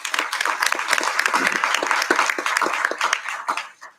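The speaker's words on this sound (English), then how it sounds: "So I want to give our teachers another round of applause for that support." Audience at a school board of education meeting applauds teachers, a full, continuous round of many hands clapping that holds steady for several seconds before tapering off at the end.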